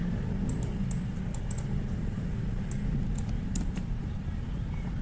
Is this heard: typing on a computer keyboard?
yes